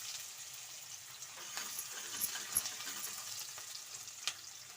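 Chopped onions fry in a pan for a rajma masala curry, giving a faint, steady sizzle with a few soft stirring clinks and no talking.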